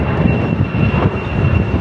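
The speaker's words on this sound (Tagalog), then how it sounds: "Ang daming ano yan, helicopter, aeroplano." An aircraft, airplane or helicopter, flies overhead above a Dutch town centre, its engine a loud, continuous rumbling drone with no voices.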